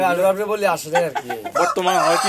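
A loud, close rooster crows in long, strained calls mixed with clucking, filling the whole moment, at a silkie chicken farm.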